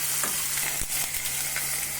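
Mustard seeds, dried chilies, cumin and garlic crackle and sizzle steadily in hot oil for a tomato dal tempering, with a few sharp pops and scrapes close by and no voices.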